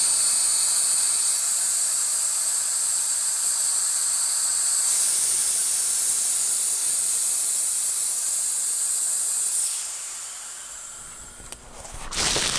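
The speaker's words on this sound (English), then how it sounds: "let's go ahead and release the pressure in this pressure pot" Pressurised air hisses loudly and steadily out of a resin-casting pressure pot, holding for about ten seconds before dropping away to a faint residual rush.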